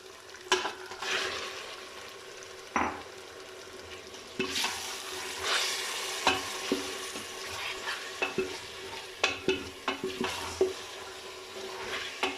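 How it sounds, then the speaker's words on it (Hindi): Mutton frying with garlic for shaljam gosht (turnip and meat curry) sizzles steadily in a pan, with repeated scraping and stirring clatters from a utensil throughout. "अब गोश्त को थोड़ा सा हम 5 मिनट के लिए फ्राई करेंगे।"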